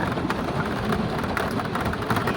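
Steady rain falls near a beach, a dense, even hiss with scattered heavier patters and low rumbling throughout, no voices.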